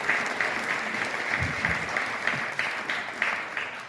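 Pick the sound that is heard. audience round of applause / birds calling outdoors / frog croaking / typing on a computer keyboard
audience round of applause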